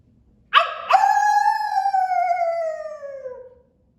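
A person imitates a coyote howl with a voice: one sharp yelp, then a long rising-then-falling howl held for about three seconds, close and clear with no other sound.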